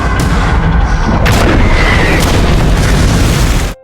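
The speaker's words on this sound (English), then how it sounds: "Roberta's radio has also picked up the sound of an explosion, and it sounds like it's a proximity detonation." A proximity detonation explosion booms in a loud, dense burst of low rumble that rolls on continuously, with sharper secondary cracks partway through, before cutting off abruptly.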